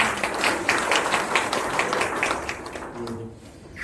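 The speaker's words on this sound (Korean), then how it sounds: "박수 한 번만 더" An audience at a party talk concert held in a library hall claps together, loud and dense at first, then thinning and fading toward the end as a voice begins.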